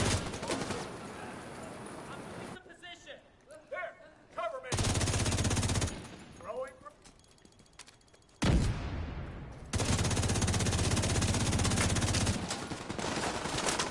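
Bursts of automatic gunfire from the St. Elmo's gun with shock rounds in the Division 2 video game, loud and sustained in several long volleys separated by short quieter gaps.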